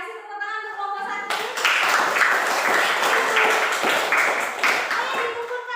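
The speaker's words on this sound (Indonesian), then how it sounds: "Kasih tepuk tangan untuk kelompok 1" Students in a classroom applaud group 1, a burst of lively clapping starting after a teacher's voice and continuing steadily for several seconds.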